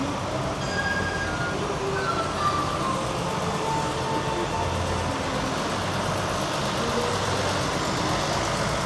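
A bus engine idles nearby on a Chinatown street in Los Angeles with a steady, unbroken low rumble and a faint hum that never rises or fades.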